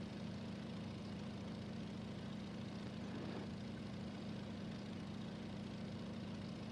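Steady, droning engine hum of a Boeing PT-17 Stearman biplane in Microsoft Flight Simulator 2020, a constant low rumble heard from inside the cockpit, subdued and unchanging throughout.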